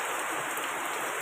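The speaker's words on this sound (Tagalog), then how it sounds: "Sobrang lakas ng ulan." Heavy rain pours in a dense, steady hiss, loud and unbroken with no pauses or voices.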